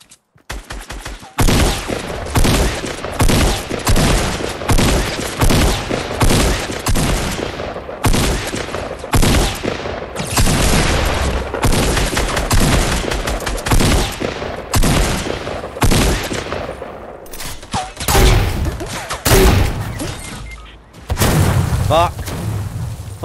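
Rapid bursts of gunfire from the video game Fortnite crackle almost continuously, loud and close, with brief gaps between volleys and a heavier boom near the end.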